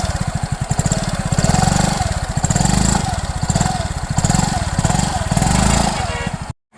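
A Yamaha ZR125 BS6 scooter engine runs at a steady, loud idle close by, with an even pulsing putter and slight rises and falls in pitch, then cuts off abruptly at the very end.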